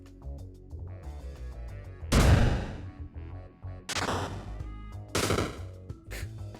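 Sapper minions blowing up in the Peglin video game: three separate booming explosions, the first loudest, each bursting suddenly and decaying over a second, over a low game music bed.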